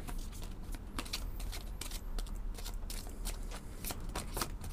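Tarot cards are shuffled and handled up close in quick riffling bursts with sharp papery flicks, fairly quiet, with no voices.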